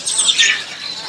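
Brief high chirping phrases from a murai (magpie-robin) songbird, close and fairly clear, lasting about a second with no talk over it.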